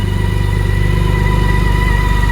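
A 2019 BMW K1600GT motorcycle's six-cylinder engine idles steadily after a cold start, a loud, close, even hum with no talk over it.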